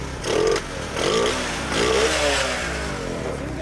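Motorcycle engine revving in short bursts during a roadside check, three rising throttle blips over a steady idle, fairly close and loud.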